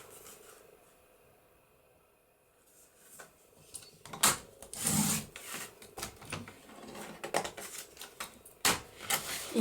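Paper is cut to size for a handmade journal page, with soft scraping and crisp snipping and cutting sounds growing busier after a quiet start, close and fairly faint, no talk.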